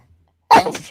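A single short, forceful sneeze bursts out abruptly after near silence, close and loud.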